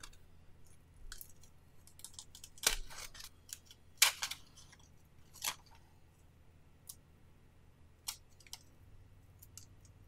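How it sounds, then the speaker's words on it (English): Scissors cut open plastic packaging for a Lenovo P2 phone with a scattered series of quiet, sharp snips and clicks over a faint hum. "Now I'm gonna do it with a scissor"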